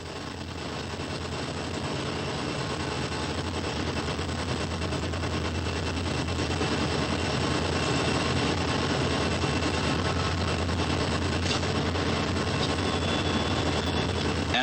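Southern Railway freight train in the 1980s working over the steep Saluda Grade mountain near Melrose: a loud, continuous engine roar with rhythmic mechanical rattling, steady throughout with no talk.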